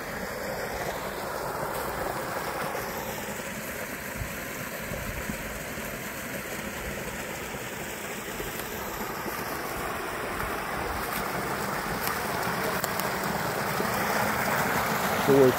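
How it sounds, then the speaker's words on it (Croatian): Warm spring water flows out into a river with a steady broad rushing and gurgling wash, constant and fairly loud throughout, with faint wind noise over it and no voices. "Ovo je količina vode koja izvira u toplivu."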